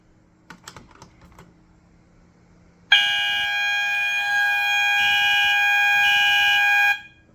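Fire alarm panel horns blare continuously for about four seconds during a walk test and then cut off abruptly. A few faint clicks come before them.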